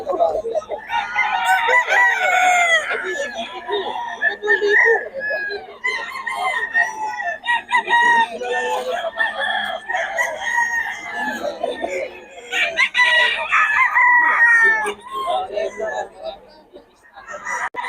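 Sweater Gilmore gamecocks crow and cluck loudly and close by in the dark before dawn, with calls overlapping almost without a break and a voice talking among them.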